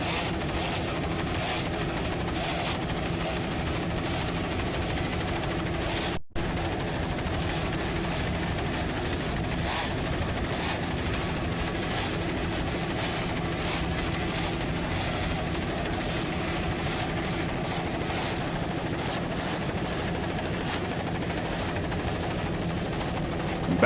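Helicopter flying over an offshore powerboat race off Miami in 1996, its rotor and engine roar loud, close and steady throughout with no talk.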